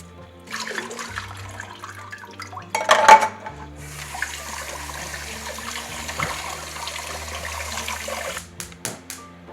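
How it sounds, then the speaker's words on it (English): Tap water rinses canned chickpeas in a kitchen, a steady splashing stream running for several seconds after a brief clatter of a can and metal, then stopping. "rinse the chickpeas as well"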